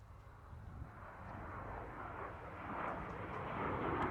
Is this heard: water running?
no